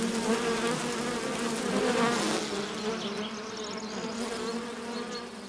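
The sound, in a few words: honey bees buzzing at hive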